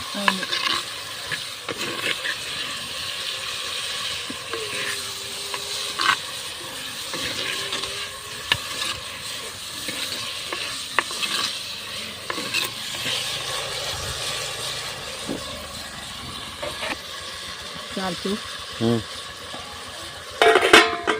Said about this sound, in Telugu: టమాటా వేస్తున్నాను. వేసి అతి తక్కువ టైంలో రెడీ చేస్తావు కదా టమాటా పచ్చడి.